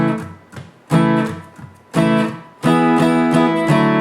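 Acoustic guitar strummed in a steady rhythm, filled-in strokes alternating with short muted chucks, in a song lesson; a few bursts of ringing chords separated by brief damped gaps, close and fairly loud.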